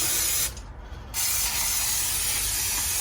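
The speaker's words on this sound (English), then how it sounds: "get some of this brake cleaner. It's pretty harsh stuff. I'll spray that on." A loud aerosol can of brake cleaner sprays in a steady hiss onto a motorcycle wheel, stops briefly for about half a second, then sprays again continuously.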